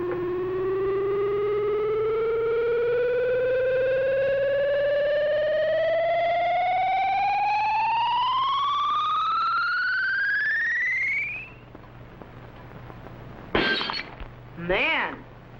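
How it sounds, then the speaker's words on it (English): An ultrasonic ray effect sweeps upward in a long rising electronic whine for about eleven seconds, then a glass jug shatters in two sharp crashes with tinkling fragments, set in a 1950s science-fiction laboratory. "whatever the beam hits will be instantly shattered by the ultrasonic sound wave vibrations"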